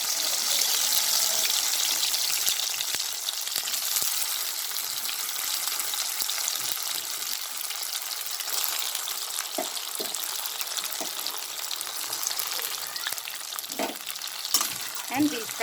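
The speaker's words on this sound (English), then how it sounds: "Now we'll heat some oil, and this baby corn mixture I'm going to fry it." Baby corn mixture frying in hot oil, a steady loud sizzle that runs the whole time, with occasional soft clinks and stirring knocks breaking through.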